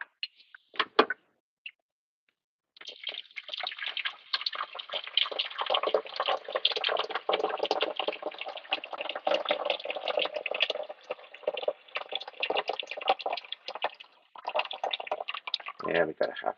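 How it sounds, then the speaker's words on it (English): Water filters through a coffee maker at night, a steady bubbling, gurgling trickle that runs close and fairly quiet for most of the span after a few brief knocks at the start. "waiting for my water to filter."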